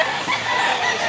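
A white rooster of a prized fighting breed clucks continuously at close range, a steady dense run of calls with no talking.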